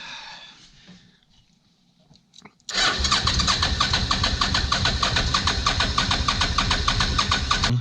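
A Suzuki VX800 engine on a go kart cranks quietly, then catches suddenly and roars into loud, steady running up close for the rest of the time.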